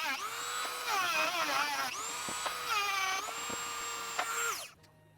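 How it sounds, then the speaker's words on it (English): A Dremel rotary tool widens a hole until a shaft just fits, giving a close, high-pitched whine that rises and dips as it bites and grinds against the material, running almost continuously before spinning down at the end. "open it up a little bit with a Dremel until the shaft fits, just barely"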